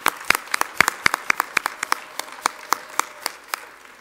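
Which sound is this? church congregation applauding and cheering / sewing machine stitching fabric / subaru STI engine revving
church congregation applauding and cheering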